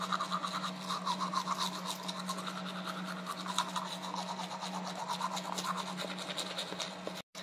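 A toothbrush scrubs teeth coated in whitening mousse, a steady close rasping stroke after stroke with a faint hum beneath, continuing without pause until a brief stop at the very end.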